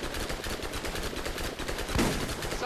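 Rapid suppressive gunfire in the Borderlands shooter game, a dense stream of repeated shots rattling steadily throughout, with a louder burst near the end.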